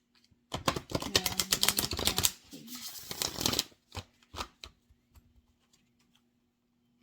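A deck of tarot-style cards shuffled by hand in a quiet room, a dense rapid riffle of close flicks for about three seconds, followed by a few separate slaps and taps as the cards settle.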